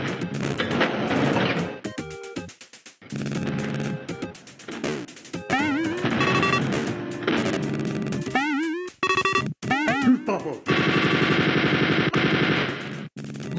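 Rapid automatic gunfire in the retro first-person shooter Spear of Destiny, bursts of shots with impacts against walls, loud and close, broken by short gaps and layered with other game effects and sharp clatters.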